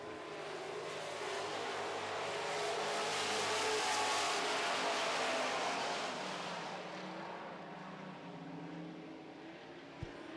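Super stock race cars roar around a dry dirt track during heat races, a loud sustained engine drone that swells toward the middle and eases off, with a brief sharp knock near the end.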